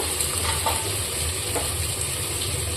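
Chopped tomatoes sautéing in a pan while cooking fish ball biryani, giving a steady close sizzle with faint scraping from occasional stirring.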